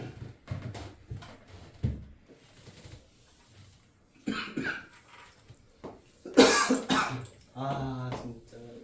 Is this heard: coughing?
yes